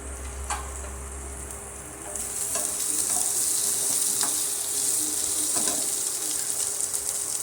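Mixed vegetables for kadhi cook in a pan, a soft sizzle that swells into a steady, louder frying hiss after a couple of seconds, with faint stirring clicks.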